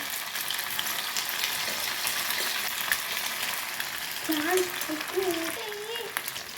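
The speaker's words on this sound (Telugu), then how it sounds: "కాగింది ఇప్పుడు డీప్ ఫ్రై చేసుకోవాలి ఇట్లా ముక్కలు వేసి మిల్ ఇలా వేసి డీప్ ఫ్రై చేసుకోవాలి" Soya chunks (meal maker) deep frying in hot oil for manchurian, a steady close crackling sizzle throughout, with brief faint tones and clatter near the end; no speech.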